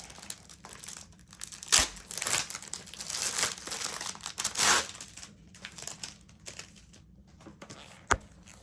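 Crinkly plastic packaging being torn open and crumpled to free a new notebook, with loud bursts of crackling near the start and middle, quieter rustling between, and a sharp final crinkle.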